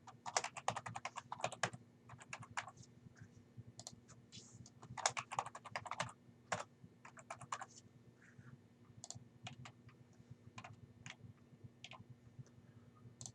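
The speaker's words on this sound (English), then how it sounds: "if I could type it" Password keys tapped on a computer keyboard while setting up a wireless network in Cisco Packet Tracer, close crisp clicks in uneven bursts with pauses, over a steady low hum, no talking.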